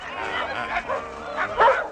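Dog barking and yipping in short bursts, close and fairly loud, with a whimpering quality, over a dense background with voices.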